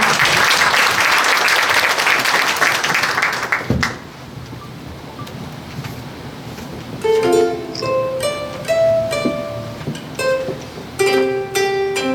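Loud audience applause fills a book launch event for several seconds, then fades as a melodic musical passage begins.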